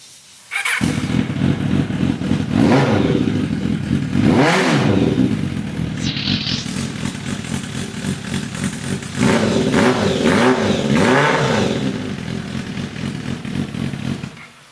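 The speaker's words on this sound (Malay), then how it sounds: "Aku start engine dia." A motorcycle engine cranks and starts, then settles into a loud, close idle broken by repeated throttle revs and a brief metallic clatter, ending as the engine dies away.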